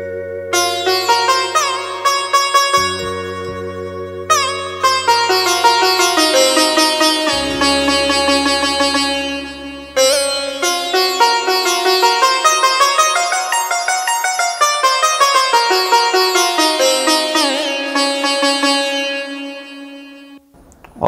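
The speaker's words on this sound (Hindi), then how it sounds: "और सितारे सुना दूं।" Sitar tone from a Korg PA series arranger keyboard, plucked twangy notes in quick melodic runs with bends over a low drone and bass chords, loud and up front for about twenty seconds with no voices.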